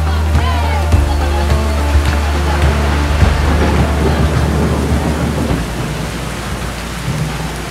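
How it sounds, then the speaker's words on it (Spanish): Heavy rain pours steadily onto surfaces while thunder rumbles loudly through the storm, a dense continuous wash that eases slightly toward the end. "Empezó a llover"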